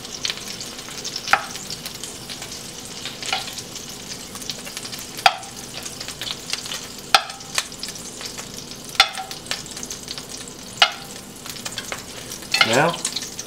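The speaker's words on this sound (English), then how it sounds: "Meatballs have been browned on all sides." Meatballs fry in a pan with a continuous close sizzle, broken every second or two by sharp clicks of a utensil turning them, ending in a louder burst of crackle.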